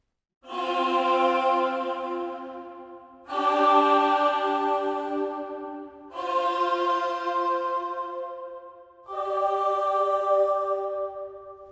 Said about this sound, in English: half the singers are performing an atonal breath, while half sing a soft, airy tone